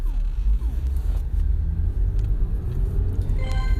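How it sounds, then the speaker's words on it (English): Steady low engine rumble and road noise from inside a moving car, continuous and fairly loud throughout, with a faint rising tone near the end. "Pretty much everybody can hear the sounds of my car, I feel like."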